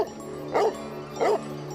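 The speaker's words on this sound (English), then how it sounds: "he barked from time to time to keep any other animals at bay" A dog barks twice in quick single woofs about half a second apart, close and clear over a steady low hum, while leading the way through undergrowth to keep other animals away.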